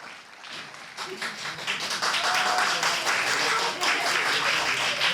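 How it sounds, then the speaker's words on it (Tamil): Audience applause at an annual dance programme, clapping that swells in after a quiet start and then holds as a full, steady ovation from a close crowd. "உங்கள் கைத்தட்டல் வழியாக சொல்லுங்கள் பார்ப்போம்"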